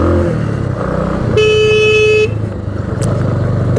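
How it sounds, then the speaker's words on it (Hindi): A vehicle horn blares in one sustained honk for about a second over a steady rumble of road traffic and engines, with no talking. "तो हॉर्न बजाना बहुत ज़रूरी है भैया इस रोड पे।"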